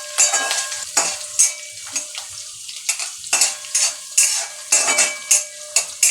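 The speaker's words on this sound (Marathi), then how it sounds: "मिरच्या पण चांगल्या परतून घ्यायच्या आहे।" Green chilies fry in hot oil while a spoon stirs them in a pan, giving repeated rhythmic scraping strokes over a steady sizzle, close and fairly loud.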